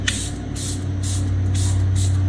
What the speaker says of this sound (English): I spray it on my face and one spray on the sponge.